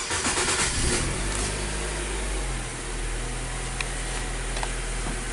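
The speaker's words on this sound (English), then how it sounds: "I'm gonna start this vehicle up again and let's see what's good" A Nissan Sylphy engine, just repaired after a cylinder 4 misfire and ignition coil fault, starts up and settles into a steady, even idle hum, close and with no talking.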